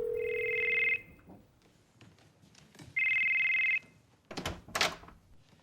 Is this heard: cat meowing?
no